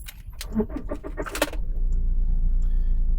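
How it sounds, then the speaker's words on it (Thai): A 2018 Toyota Fortuner 2.4V started by push button: clicks and rattles of the smart key and cabin come first, then the engine catches and settles into a steady low idle. "นี่คุณผู้ชมสตาร์ทติดเรียบร้อยนะครับ"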